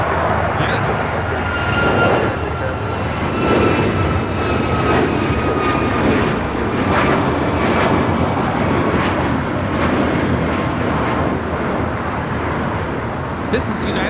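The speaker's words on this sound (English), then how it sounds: "765 taking off to Kahului on the MAX 8" A United Airlines Boeing 737 MAX 8 takes off from Los Angeles bound for Kahului, its jet engines a steady, broad roar that holds loud for the whole stretch while people talk over it.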